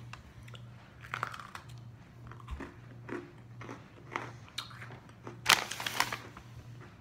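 A Lady Gaga Oreo cookie being chewed close to the mic, with repeated crunchy bites and wet mastication over several seconds and a louder crunch near the end, and no talking.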